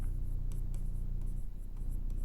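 Pen or pencil scratching on paper while a maths equation is written out by hand, a close, soft scraping with several short strokes over steady background noise.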